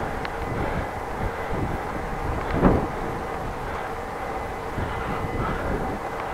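A train passes near a cycling route between Groningen and Sauwerd, a low steady rumble with a brief louder swell midway, heard alone without talk.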